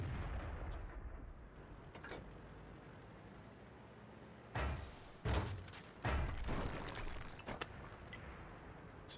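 Video game gunfire, a few heavy thumping shots in a short cluster partway through against a quiet hissing background, fairly faint and distant.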